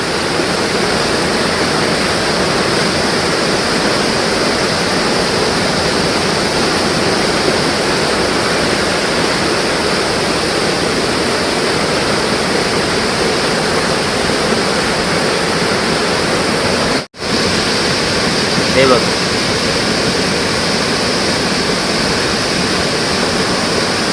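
Village waterfall at Devgad Katta in the rainy season, a loud, steady full roar of falling water that runs unbroken throughout, with only a momentary dropout near the end.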